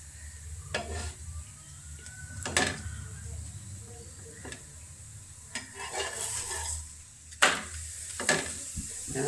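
Breakfast frying in oil in a pan, a soft steady sizzle with intermittent scraping and clinking bursts from a utensil against the pan, close and moderately quiet.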